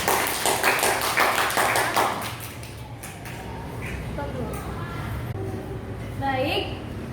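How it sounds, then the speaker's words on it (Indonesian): A class of students claps together for about two seconds, a loud burst of many hands that fades into quieter classroom murmur and scattered voices. "Mari kita berikan tepuk tangan."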